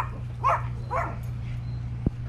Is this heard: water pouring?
no